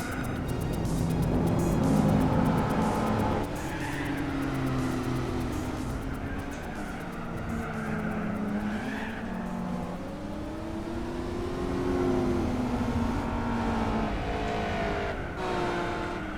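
Race cars roaring in a Gran Turismo 4 race, a Camaro battling close alongside, engines droning and shifting pitch continuously with rising and falling revs throughout, loud and steady.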